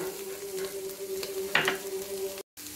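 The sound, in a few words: boiled chicken and cabbage frying in a pan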